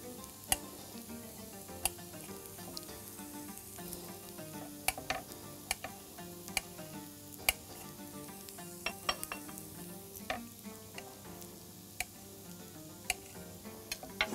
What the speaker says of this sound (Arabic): اقلب برضو البصل